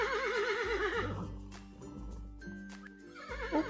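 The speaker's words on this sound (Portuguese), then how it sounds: "O cavalo!" A horse gives one loud, close whinny with a quavering, wavering pitch, followed by steadier low tones.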